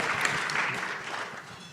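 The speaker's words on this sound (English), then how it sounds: "I believe that deserves applause." Audience applause at a community brunch event, a steady broadband patter of many hands clapping at moderate level throughout the short stretch, with no voices on top.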